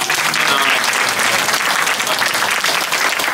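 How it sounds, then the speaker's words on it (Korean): A worship service congregation gives a loud, sustained round of applause, many hands clapping densely and evenly close by with a faint crowd murmur beneath. "다시 한번 박수 한번"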